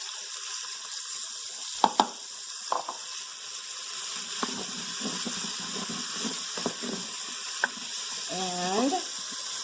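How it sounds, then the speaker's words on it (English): Onions sizzling in an Instant Pot with browned kielbasa, a steady hissing fry with scattered clicks and stirring scrapes at moderate volume, plus a brief higher squeak near the end. "So at this point I add the onions."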